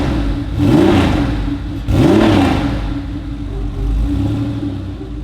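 A road-legal supercar, race-car styled, revs its engine twice in sharp rising bursts, then settles into a lower throaty idle with a softer blip, loud and close with no voices.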